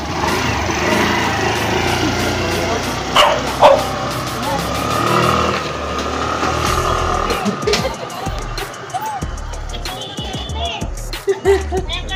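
A vehicle engine idling and running during a test drive while checking an ISC problem, a steady close rumble under talking voices, with clicks and knocks.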